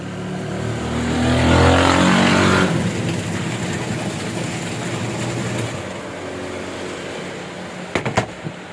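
A Sharp GIGA washing machine's replacement motor whirs, swelling loud for a few seconds, then settling into a steady rumbling hum, with a few sharp clicks near the end.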